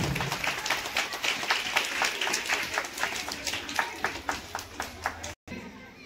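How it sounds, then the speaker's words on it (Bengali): A school audience applauds to welcome guests at a Twinning of Schools cultural program, steady rhythmic crowd clapping with loud individual claps near the end, then a brief cut and quiet. "আসুন সবাই মিলে করতালির মাধ্যমে অতিথিদেরকে সংবর্ধনা জ্ঞাপন করি"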